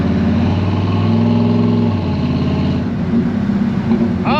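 A 1980s square-body Chevy Blazer engine drones loud and close while driving, the pitch rising as it revs and then easing off, with no talking.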